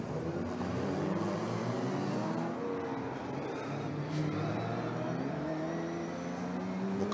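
Vintage race cars, including Lotus 7s, run on the Circuit des Remparts street circuit, with a continuous mid-distance engine drone and the whir of cars passing throughout.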